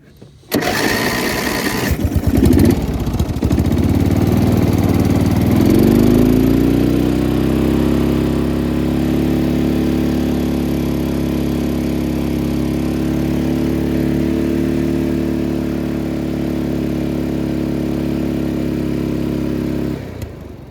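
A snow blower's small gasoline engine starting with a rough burst, then settling into a steady, loud, continuous drone close by for about twenty seconds before cutting off.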